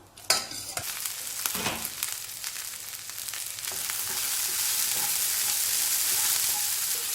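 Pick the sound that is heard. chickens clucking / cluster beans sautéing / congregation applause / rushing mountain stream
cluster beans sautéing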